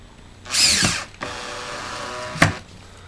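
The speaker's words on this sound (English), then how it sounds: "You can use a Phillips screwdriver or a screw gun on this." A screw gun drives a screw into the plastic cooktop of a Grammie's Kitchen Deluxe toy kitchen, giving a loud whirring burst, a quieter steady run, then a sharp final bite as the screw seats.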